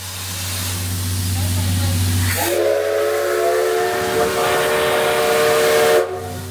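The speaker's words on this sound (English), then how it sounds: "There was a beautiful steam engine ride that you could do if you wanted to." A steam engine train in Nikko, Japan lets out a loud sustained whistle with a strong hiss of steam, cutting in after a low steady hum and stopping abruptly near the end.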